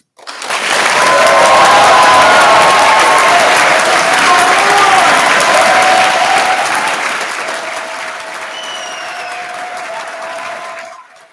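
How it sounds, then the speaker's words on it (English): An audience at a winter graduation ceremony bursts into loud applause with whoops and cheers for the graduating class, swelling quickly, holding strong, then tapering off. "this is your chance to really fill the room with noise and applaud the brilliant class of 2025"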